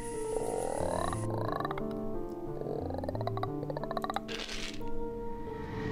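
A person imitates frog croaking, making playful creature noises with rhythmic, warbling vocal sounds over game background music, steady and close throughout.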